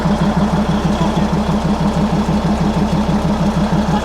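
The diesel engine of the Darjeeling toy train runs steadily, a close, loud, low throbbing rumble with an even pulsing rhythm throughout and no talk.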